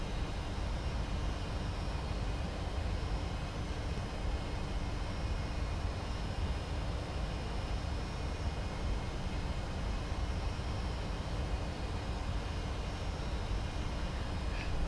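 Flight-simulator Boeing 767 takeoff roll in X-Plane 10, a constant broadband jet roar with a faint steady whine on top, unchanging and continuous throughout.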